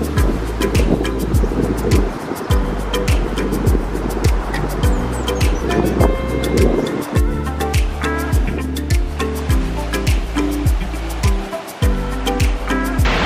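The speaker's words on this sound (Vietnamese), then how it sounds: "mình đang ngồi ngay trước sóng biển" Sea waves wash onto the beach at Bãi Sao on Phú Quốc in a steady, loud, broadband roar, with a regular low pulsing beat running underneath and faint scattered clicks on top.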